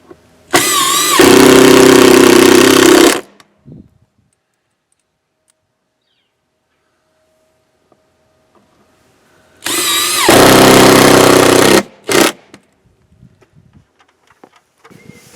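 A power drill drives 2.5-inch flathead square-drive screws into a wooden mounting block for exterior lighting, two loud, close whirring bursts of about two seconds each separated by quiet.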